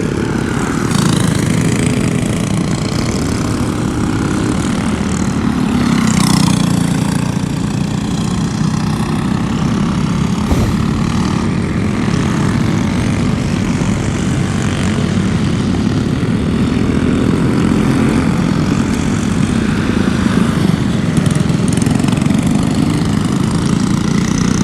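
Racing karts buzz around the Orlando Kart Center during a Pro League race, a loud, sustained, droning engine roar with shifting pitch as several karts pass close by.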